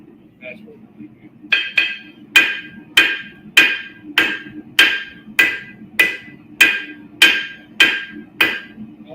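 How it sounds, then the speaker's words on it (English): Regular hammer blows on hot Damascus steel during forging ring out one after another, about a dozen sharp metallic strikes at a steady rhythm, close and loud over a low background hum. "I'm choked up on the hammer and I know I got to swing on her"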